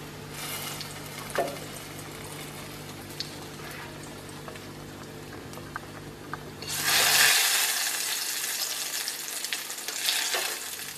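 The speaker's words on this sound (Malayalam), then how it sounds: "വേപ്പില കൂടിയിടാം. ഒന്ന് മൂപ്പിച്ചെടുക്കാം." Curry leaves hit hot oil in a pan for Kerala egg curry and burst into a loud, steady sizzle after a quieter stretch with light clinks, the frying hiss then continuing evenly.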